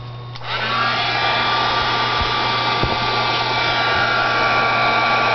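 A heat tool blows steadily on sticky embossing powder to melt it, a continuous loud whirring hiss with a low hum that switches on in the first half second and runs unbroken to the end, with no talk.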